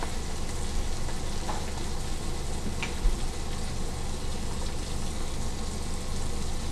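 Lobster pieces sizzle steadily in a hot pan while a lobster mac and cheese is prepared, a constant close frying hiss with faint crackles and one small clatter, no talking.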